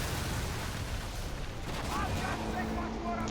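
In Skull & Bones, ship cannons fire continuously while the vessel moves, producing a dense, loud barrage of booming shots over a steady rumbling background.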